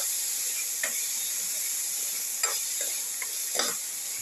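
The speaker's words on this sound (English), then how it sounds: "Put in the tomato pieces. Sauteing thoroughly." Tomato pieces sauteing in a pan for a potato tomato rice soup, giving a steady close sizzle with a few soft scraping stirs spaced through it, no voices.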